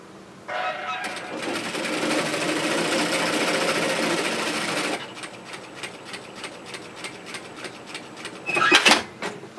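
A sewing machine runs steadily for about four seconds while stitching a hoodie seam. Quieter handling noise and brief clatter follow after it stops.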